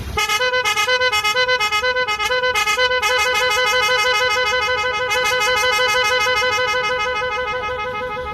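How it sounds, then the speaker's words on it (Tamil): A loud, melodic electronic echo horn on a Hero Splendor motorcycle plays a continuous run of shifting musical tones, warbling and echoing without pause. "எக்கோ ஹார்ன் பாருங்க, அடிக்கிறேன் பாருங்க."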